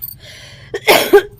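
A woman gives a few sharp, close coughs, one at the start and then a louder burst of two or three near the end, separated by brief quiet.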